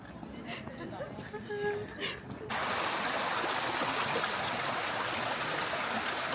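Water rushes and trickles steadily in Tokyo, Japan, growing into a loud, continuous flow after a few seconds, with faint background sounds early on.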